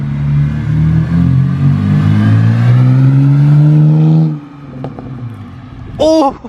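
A salvaged BMW's engine revs in long, rising and falling sweeps for several seconds, then drops off into a lower idle and lets out a short crackling pop near the end.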